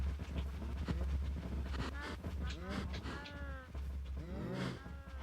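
Cows mooing in the Minecraft video game, several drawn-out moos repeating over a steady low background hum on a cow farm, with voices talking over them.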